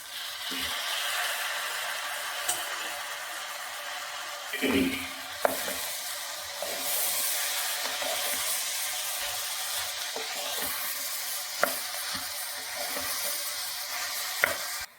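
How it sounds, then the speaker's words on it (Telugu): Chopped tomatoes sizzle and fry with cluster beans in a pan, a steady close hiss with occasional stirring scrapes and clinks. "గోరుచిక్కుడు కూడా బాగా వేయించుకొని ఇప్పుడు టమాటాలు 2 కోసి పెట్టుకున్నాం కదండి. ఇప్పుడు వేసేద్దాము."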